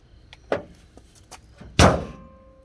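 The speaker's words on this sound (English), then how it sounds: "Alright, go ahead, drop the hood." A junkyard car hood with poor fitment dropped shut: a couple of light knocks and clicks, then one loud, heavy close-range slam that rings out briefly.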